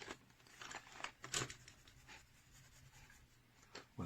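A Maped Color'Peps Infinity colored pencil is drawn across paper, giving faint, close scratchy strokes in irregular bursts with small pauses between them.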